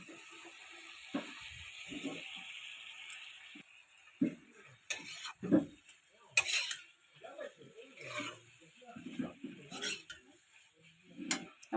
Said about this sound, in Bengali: আমি এখন পালংটা ঢেলে দেবো।